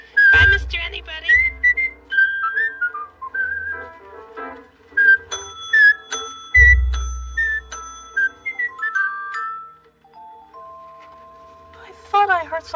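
A person whistles a bright, cheerful tune in a run of short, separate phrases, with single held notes and little slides, clear and close, with brief spoken words in between.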